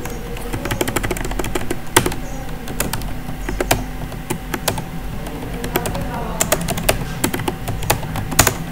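Someone types on a computer keyboard in rapid, irregular bursts of close clicking keystrokes, with a voice speaking over parts of it.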